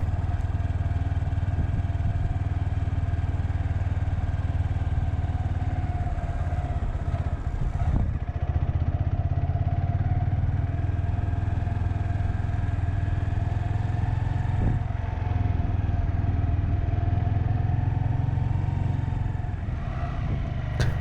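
A 2020 Honda Grom ABS motorcycle is ridden around a parking lot, its small engine humming steadily and close with slight rises and dips in revs, wind buffeting the microphone, and no talking.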